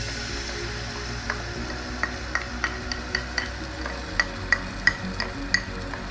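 Chili ketchup and tomato ketchup stirred into a frying flour mixture in a pan: a steady sizzle with a spoon scraping in repeated light strokes, close and alone.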